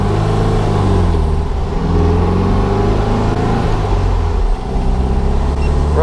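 A 1961 VW Ragtop Beetle on a test drive, its engine running in a loud, steady, throbbing drone heard from inside the car, with slight rises and falls in pitch and no talking.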